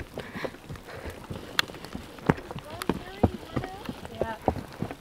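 Rain pattering on beach bushes in warm California weather, scattered soft drops and taps forming a light irregular patter under occasional voices.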